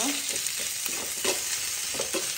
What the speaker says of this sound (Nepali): प्याज हल्का ब्राउन भइसम्म फ्राई गर्नुपर्छ